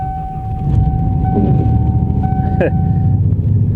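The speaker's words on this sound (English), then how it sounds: "She fired right up." A car engine cold starts after a jump start on a freezing day and settles into a steady, low rumbling idle with a faint whine, the whole clip filled by the running engine.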